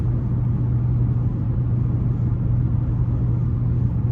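The four-cylinder engine of a 2015 Chevy Impala drones from inside the cabin while cruising at about 60 mph: a loud, even low rumble with a steady hum and no gear changes.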